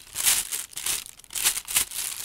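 A small, plain white plastic bag is handled, crinkling in several loud, close bursts of rustling with short pauses between them.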